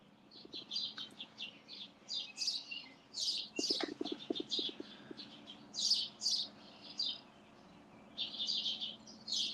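Birds chirp and tweet outdoors in repeated bright bursts, a fairly quiet chorus of short calls with brief pauses, plus a few low coo-like notes in the middle.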